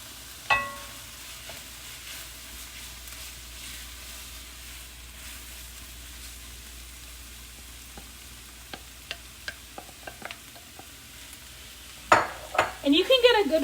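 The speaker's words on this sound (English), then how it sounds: "I'm going to come in with my couscous" Pre-cooked couscous and vegetables stirred in a hot pan: a steady low sizzle runs throughout, broken by scattered light scraping taps, then a burst of louder clattering spoon-and-pan stirring near the end.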